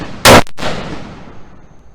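A single sharp, loud gunshot from an ATI AR-15 pistol with a 7.5-inch barrel, followed by a second softer report and a decaying echo.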